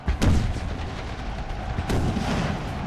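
Musket and cannon fire from troops in an Empire: Total War battle with a Confederate militia, a loud booming volley at the start and another blast near the end over continuous low battlefield rumble.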